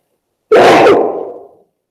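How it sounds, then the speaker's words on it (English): A single loud, close sneeze with a sharp onset that trails off into a breathy fade, alone in silence. "I'm going to sneeze."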